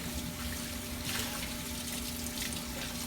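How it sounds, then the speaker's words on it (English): Tap water running steadily into a sink while a fork is rinsed under it, a close, continuous splashing rush with slight fluctuations from the object passing through the stream. "And then rinse it."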